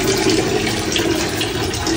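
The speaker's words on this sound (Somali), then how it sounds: "waa suuliyaashii" A toilet at a mosque in Berbera flushes with a loud, steady rush of water that lasts about two seconds and has no gaps.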